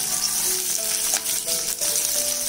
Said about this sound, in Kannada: ಎಲ್ಲ ಸೇರಿ ಒಂದು 2 ನಿಮಿಷ ಚೆನ್ನಾಗಿ ಹುರ್ಕೋಬೇಕು.